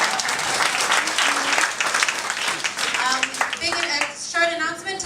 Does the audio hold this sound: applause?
yes